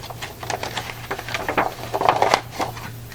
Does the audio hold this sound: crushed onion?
no